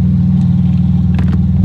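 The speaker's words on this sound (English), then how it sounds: "We've just opened the exhaust here." A tuned car engine revs with its exhaust opened, a loud close low rumble that holds steady throughout, with a brief rise in higher-pitched roar near the end.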